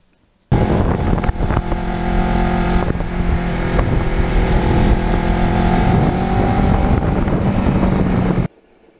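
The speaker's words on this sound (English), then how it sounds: "I know the GoPro picks up some of that wind noise indiscriminately." Heavy wind buffeting roars into a helmet or bike-mounted camera while riding a Kawasaki Ninja 650R motorcycle on a gusty day, a loud continuous rush with the engine drone buried underneath for about eight seconds.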